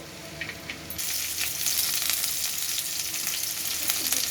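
Chopped onion and green chilli hit hot oil already holding cumin and dried red chilli, the frying jumping from a faint hiss to a loud, continuous sizzle, with scraping and stirring close up throughout.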